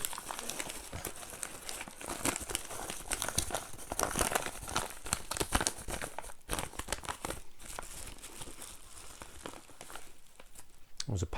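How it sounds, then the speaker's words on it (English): A mail package torn open by hand, paper and plastic crinkling and ripping in dense, irregular bursts close by, with a few sharper tears throughout. "So I'm going to open this up and see what it is."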